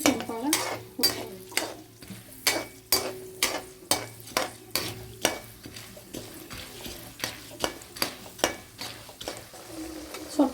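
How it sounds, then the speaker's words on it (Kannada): Chana dal and urad dal fry in oil for temple-style puliyogare gojju while a spoon stirs them, giving a soft sizzle under a steady series of sharp scraping strokes against the pan, about one per second. "ಇವಾಗ ಇದೇ ಎಣ್ಣೆಗೆ ಕಡಲೆಬೇಳೆ ಮತ್ತು ಉದ್ದಿನಬೇಳೆ ಹಾಕ್ಕೊತಾ ಇದ್ದೀನಿ."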